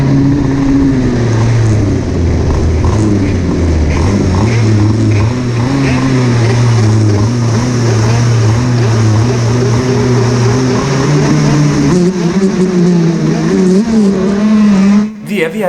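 Racing kart engines idle and buzz together at the start of a kart race at Club des Miles track, a loud, steady, throbbing drone that shifts pitch near the end, with someone talking over it.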